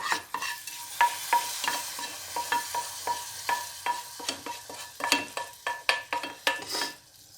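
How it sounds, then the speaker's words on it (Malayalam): Mustard seed tempering sizzles and crackles steadily as it is poured into boiling sambar, while a spoon knocks and scrapes in a quick, irregular rhythm, close by. "അപ്പോൾ നമ്മുടെ തിളച്ചുകൊണ്ടിരിക്കുന്ന സാമ്പാറിലേക്ക് നമ്മുടെ കടുക് വറ ഇങ്ങനെ ഒഴിച്ചു കൊടുക്കാം."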